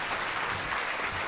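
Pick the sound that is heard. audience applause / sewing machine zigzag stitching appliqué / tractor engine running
audience applause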